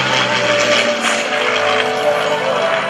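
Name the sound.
formation flight of classic and current Air Force aircraft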